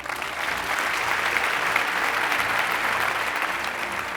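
A large audience at a TED talk breaks into sustained applause, a dense, even wash of many hands clapping at once that holds steady throughout with no voices over it.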